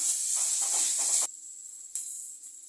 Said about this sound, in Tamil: கறிவேப்பிலையும் பச்சை மிளகாவும் போட்டுக்கலாம் கொஞ்ச நேரம் வதங்கட்டும்